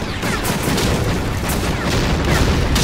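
Grenade explosions in the shooter game Blade of Agony, a dense run of booming blasts and crackling gunfire-like bursts that fills the whole stretch loudly and continuously, with no clear gaps between hits.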